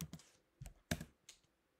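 Keys tapped on a computer keyboard while typing a Homebrew install command, a few close, crisp clicks in a short uneven burst.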